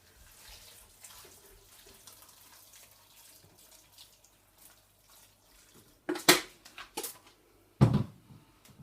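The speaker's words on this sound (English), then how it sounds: "I'm gonna pour in some water so that it can cook and boil for a while." Water is poured into a cooking pot for a fumbwa stew in a home kitchen, with faint splashing and handling noises followed by a few louder clattering knocks of pot or lid.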